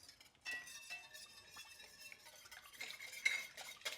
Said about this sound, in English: we're gonna add in our seasonings as well. And whisk that together